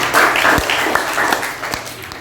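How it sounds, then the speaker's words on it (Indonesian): Scattered hand claps ring out in a classroom after a student group finishes its presentation, a few sharp claps spread unevenly over a couple of seconds, mixed with voices. "Ya, tepuk tangan."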